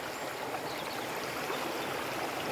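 Spring water running steadily in a stream, a continuous soft broadband rush and gurgle with no breaks, moderately close and with no voices.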